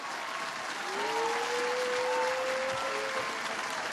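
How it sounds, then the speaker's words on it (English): Applause fills a room for the cast, crew and LOBP during a talk show taping, a steady wash of clapping and crowd noise with a sustained tone running under it. "Round of applause."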